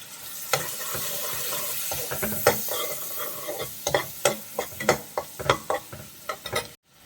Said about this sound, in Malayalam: പച്ചമുളക് ഒന്ന് വഴന്നു കഴിഞ്ഞാൽ പിന്നെ നമ്മൾ അതിലേക്ക് സോയാ സോസാണ് ചേർക്കുന്നത്